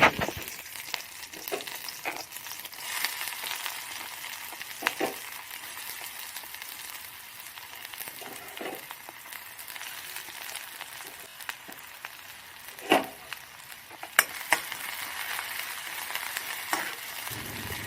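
Onions frying in hot oil with bay leaf and green chili in a home kitchen, a steady low sizzle with intermittent stirring clatters and sharp spatula scrapes across the pan, continuous and close.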